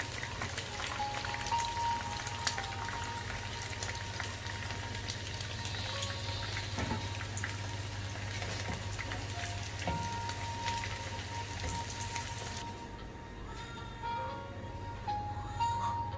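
Chicken 65 pieces frying in hot oil, a steady dense crackle and sizzle that runs throughout and eases slightly near the end.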